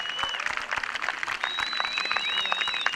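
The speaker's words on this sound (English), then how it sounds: "give the university a great round of applause for these important developments" Audience applause at a university speech, steady dense clapping throughout at moderate loudness, with faint whistles rising above the claps.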